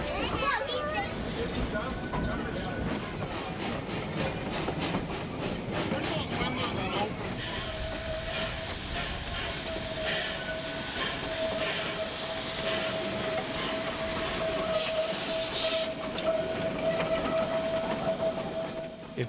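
Colorado scenic railway steam locomotive 346, running with a borrowed tender, rolls past with steady clanking wheel beats and hissing steam, a sustained whistle-like tone joining midway, loud and close throughout.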